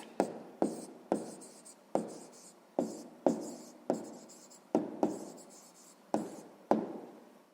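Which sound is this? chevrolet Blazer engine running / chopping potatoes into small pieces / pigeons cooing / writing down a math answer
writing down a math answer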